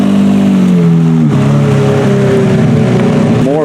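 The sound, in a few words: cars driving in to a car show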